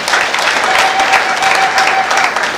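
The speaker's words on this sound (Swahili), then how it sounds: "Naomba tuipigie makofi thamani" An audience at a cryptocurrency coin presentation applauds in a dense, steady wash of clapping, close and loud for the whole stretch.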